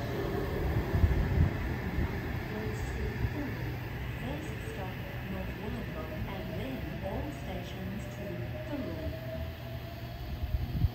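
A train arriving at a Wollongong-area station rumbles and hums nearby under a steady low roar, with a rising whine and squealing as it moves along the platform; voices murmur faintly.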